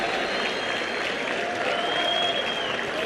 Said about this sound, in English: And the crowd in South Africa going full Momo mode.